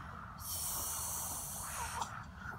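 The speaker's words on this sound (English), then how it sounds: "Are you snoring" A sleeper in a hammock snores with a soft, breathy rasp, one long drawn breath heard close and quiet, followed by faint small sounds.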